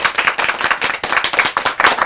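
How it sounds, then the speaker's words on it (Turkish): Applause from a village gathering in Pınarcık, Kütahya, with many hands clapping in a dense, steady patter that stays loud and close throughout, with no talk over it. "Bir alkışlan bakalım be."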